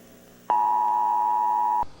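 A weather radio sounds a loud, steady electronic alert tone alone for over a second, starting and stopping abruptly.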